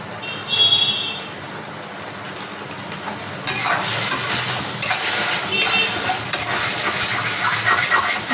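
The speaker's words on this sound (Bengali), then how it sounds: "তো আমি পেঁয়াজ রসুনটাকে কষাচ্ছি" Onion and garlic stir-fry in a pan with a soft scraping and stirring at first, then a louder, steady sizzle from the middle of the clip onward. No one speaks.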